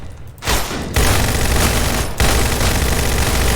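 Rapid continuous rifle gunfire, about 30 rounds fired in a dense, loud, close burst with one brief break partway through.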